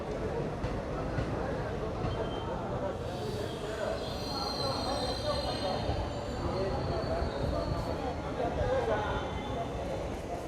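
The Mumbai LTT–Coimbatore Express rolls through Yelahanka Junction station in Bengaluru with a continuous loud rumble and rattle of wagons and faint wheel squeal, while indistinct background voices mix in throughout.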